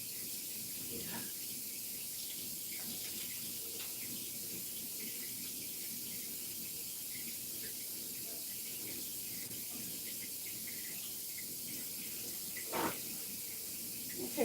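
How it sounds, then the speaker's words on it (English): Tap water runs steadily into a kitchen sink where salmon is being fried late at night, a constant hiss holding for the whole stretch, with a brief louder clatter near the end. "that's the water you hear running"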